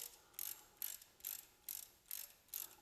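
A hand ratchet clicks through six evenly spaced bursts, tightening sway bar bolts on a Jeep TJ. The clicking is close and fairly quiet, with no talk over it.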